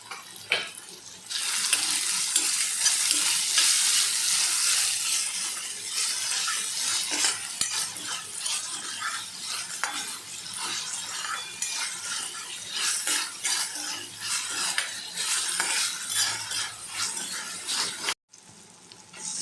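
Chopped tomatoes and onion sauté in a pan for vada sambar while being stirred, a constant bright sizzle with frequent utensil scrapes and clicks, close by, ending with a brief cut and silence near the end.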